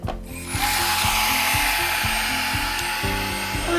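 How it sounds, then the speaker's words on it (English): A Lefant M320 robot vacuum runs on a rug picking up cat litter, giving a steady close motor whir with a fast rattling, ratchet-like clatter of grit being pulled in, continuous and loud with no talk. "Let's see how well it sucks up this cat litter."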